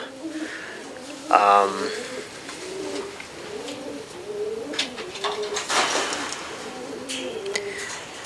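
Racing pigeons coo repeatedly in a breeding loft, soft rhythmic calls close by with some wing flutters and shuffling, while someone talks over them.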